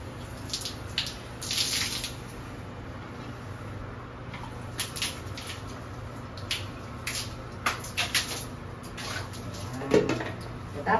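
Water running from a tap while a bathroom is washed down with soap, a steady close splashing stream with intermittent splatters and scrubbing noises.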